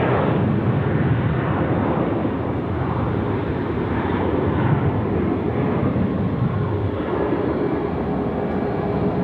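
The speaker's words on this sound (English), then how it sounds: "The Thai Airways is coming down Alpha to go to the terminal." A Thai Airways airliner taxis along taxiway Alpha toward the terminal at Sydney Airport, giving a steady, broad jet-engine rumble and whine that holds constant throughout, fairly near and with no voices.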